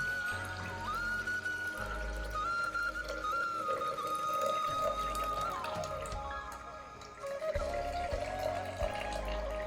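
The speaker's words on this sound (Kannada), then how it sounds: "ಈ ಅಕ್ಕಿ ನೀರನ್ನು ನಾನು ಒಂದು ಗಾಜಿನ ಪಾತ್ರೆಗೆ ಹಾಕೊತೀನಿ" Rice water, about two glasses' worth, pouring steadily into a glass vessel, a continuous trickling splash with faint dripping, no voices.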